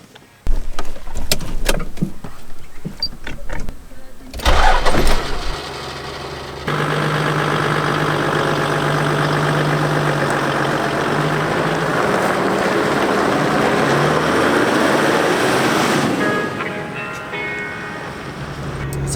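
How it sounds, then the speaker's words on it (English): Toyota Landcruiser with a 1HDT diesel engine clatters through a few loud starting bursts, then settles into a steady, continuous drone as the truck drives off, with the engine note holding even and prominent to the end. "let's take it for a drive and I'll show you how it goes"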